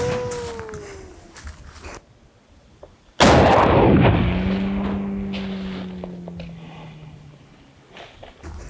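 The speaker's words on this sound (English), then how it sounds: "You just shot a 12 gauge slug." A 12 gauge shotgun slug fired outdoors: one sudden loud boom with a long rolling decay and echo over several seconds, preceded by quiet shuffling and followed by faint movement.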